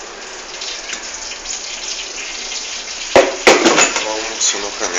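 Banana cake batter with chocolate chips being poured and scraped into a pan: a soft wet rustle followed by a few sharp clinks and scrapes of a utensil against the pan near the end, close and fairly loud.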